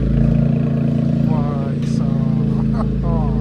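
A Tata Punch exhaust fitted with a valvetronic valve, here opened, gives a steady, deep, throbbing engine drone that runs the whole time, with people talking close by over it.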